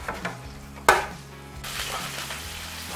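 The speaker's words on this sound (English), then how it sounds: "So, bacon turned over, sizzling away." Bacon sizzles in a frying pan with a soft, steady hiss, broken by a sharp clink of a utensil and light scraping, quiet and close with no talk.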